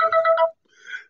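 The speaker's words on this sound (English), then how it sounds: "I finally got my first phone call." A phone ringtone for an incoming call, a short loud electronic melody of rapid tones followed by a softer fading trill, alone with no talking.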